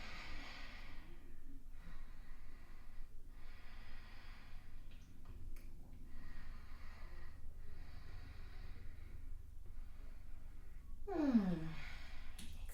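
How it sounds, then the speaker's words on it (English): Slow, quiet breathing through the nose during a Commedia dell'Arte stage warm-up stretch, soft airy inhales and exhales repeating in a steady rhythm over a low room hum, with a brief rising squeak near the end. "Breathe through your nose."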